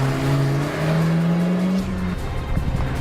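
A Honda CR-Z hybrid with a 1.5 litre petrol engine and 14 bhp electric motor runs downhill in sport mode on a mountain road, its engine droning loud and close with a steady, slowly rising tone and faint tyre noise.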